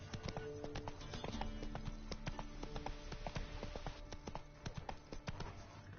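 Roach the horse gallops in The Witcher Wild Hunt, a steady run of hoofbeats thudding close and even, with no voices over the clatter.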